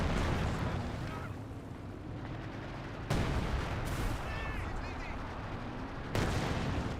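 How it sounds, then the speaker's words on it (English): Priest self-propelled artillery firing in the Company of Heroes 2 game, a dense rumbling barrage with heavy booms landing every few seconds under continuous battle noise and a voice speaking. "Priest firing away. Priest firing over here, looks like."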